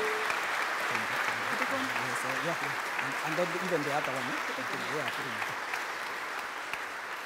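A church congregation claps continuously throughout a bishop's farewell service, with voices singing or chanting over the applause.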